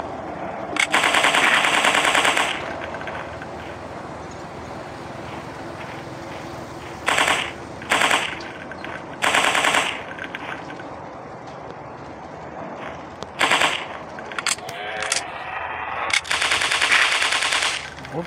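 Rapid bursts of gunfire from a dinosaur hunting shooter game on Android, several loud volleys of machine-gun-like shots separated by short pauses, with no talking.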